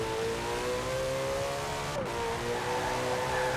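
Ferrari 488 GTB engine in the racing game Forza Horizon 4, a steady, fairly quiet high-revving drone with a brief shift blip partway through and no speech.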